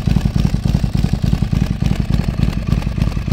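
Lazareth custom Ducati cafe racer engine running right after start-up, a loud close, lumpy idle with a fast regular pulsing beat and mechanical clatter, no talking.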